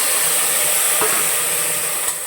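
Tomatoes added to softened onions sizzle steadily in a pan, a continuous close hiss with a faint stir or scrape near the middle and another light clink near the end.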